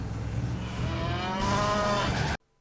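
A cow in the video game Command & Conquer: Renegade lets out one long, loud, drawn-out moo that swells toward the end and then cuts off abruptly, with no talking.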